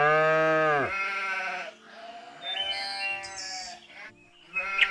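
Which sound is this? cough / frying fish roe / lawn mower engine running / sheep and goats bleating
sheep and goats bleating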